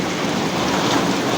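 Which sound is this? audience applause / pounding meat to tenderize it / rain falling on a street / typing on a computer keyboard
rain falling on a street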